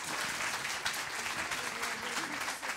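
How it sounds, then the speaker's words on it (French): Audience applause at a conference, a dense, steady roar of many hands clapping together at close range with no break for the whole stretch. "Je vous prie d'applaudir encore une dernière fois Amélie Dalmazo et David Lermite"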